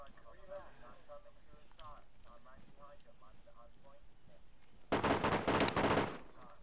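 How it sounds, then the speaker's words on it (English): Gunfire in DayZ bursts in close and loud for over a second near the end, a dense volley of shots following a stretch of quieter ambient noise and distant movement. "He's shooting at me"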